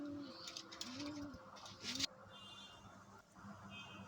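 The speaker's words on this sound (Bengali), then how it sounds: "এটা একটি সিঙ্গেল নর কবুতর" Dhaka Giribaj pigeons kept at home, cooing in repeated soft, rounded low calls through the first two seconds, with a brief louder flutter or rustle, then quieter background coos and a faint high whine.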